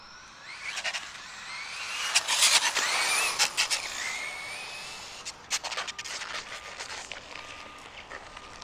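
A Traxxas Slash 2WD RC car runs on throttle outdoors, with a rising electric motor whine and gritty scraping and rubbing from its tires on rough ground. It is fairly close and uneven, surging and fading with bursts of crackle.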